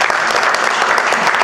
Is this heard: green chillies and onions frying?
no